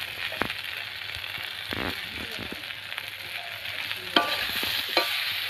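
Spice masala for a dhela fish curry fries in a pan with a constant sizzle, broken by intermittent scraping stirs and a few sharper knocks of the spoon nearby.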